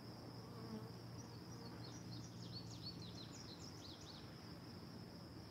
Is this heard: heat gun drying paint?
no